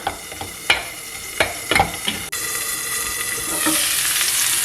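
Mixed berry jam sauce cooks in a pan alongside pork chops, with a spatula clicking and scraping at irregular intervals over a soft sizzle that grows into a steady, louder frying hiss.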